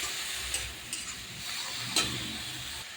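Leafy greens with salt and turmeric being stirred in a pan for a fish-head greens dish, a soft low sizzle with a few light scraping taps, quiet and close, no talking.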